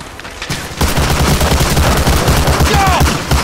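Dense covering gunfire in Medal of Honor Allied Assault, a loud sustained barrage of rapid rifle and machine-gun bursts in a World War II battle, with a quieter lead-in before the full fusillade kicks in.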